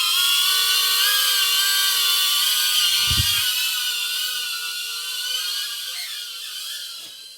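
An FPV drone lifting off and flying emits a loud, steady, high-pitched motor whine close by, with a brief low thump partway through, and the sound fades slightly toward the end.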